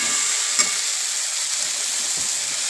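Chili garlic paste hits a hot pan and is stirred in, with steady loud sizzling and frying hiss throughout and a few scraping stirs, no voices.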